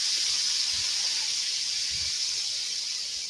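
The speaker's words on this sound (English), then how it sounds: "Look at how well it just steam baths the cast iron." Water hisses and steams steadily on a hot cast iron pan being cleaned, a constant broad sizzle with a couple of faint low knocks underneath and no talk.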